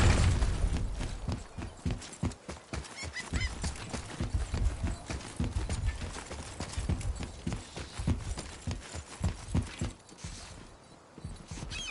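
Horse hooves clip-clop in a steady, rhythmic gait inside a PS4 video game, with loud, close, continuous hoofbeats that fade slightly near the end.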